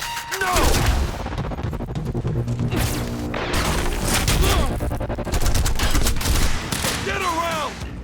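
Heavy automatic gunfire and crashing impacts in the video game Quantum Break, loud sustained bursts of rapid shots with booms, continuing for several seconds as voices shout over the battle.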